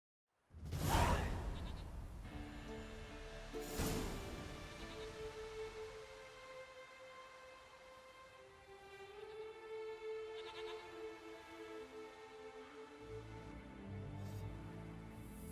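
A goat bleats in the video game The Witcher 3. Two sharp, loud cries sound near the start, followed by drawn-out wavering tones that fade over a quiet background.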